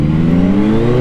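A 2024 Yamaha MT-09 SP revs through a quick-shifter blip, a brief, close, buzzing engine note that climbs slightly in pitch without pause.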